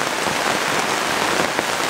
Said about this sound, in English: it's raining so hard, all of that water is moving down.